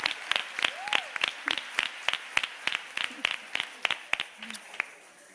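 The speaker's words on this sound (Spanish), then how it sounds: "Eres un jefe y te vamos a dar todos un aplauso." Rhythmic clapping from a theatre audience, sharp claps in a steady, evenly spaced beat at moderate distance, with faint voices in the background.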